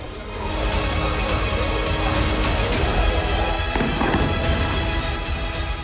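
Blasts from Hezbollah missile strikes on the Shefa-'Amr area, Israel, in news footage: a sustained loud roar of rumbling detonations with several sharp cracks and bangs scattered throughout, and a heavier burst near the end.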